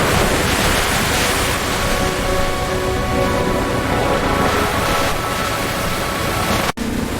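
Steady, loud rush of water fills the scene as a cartoon bus falls into a river and water pours in, a dense continuous roar with no talk.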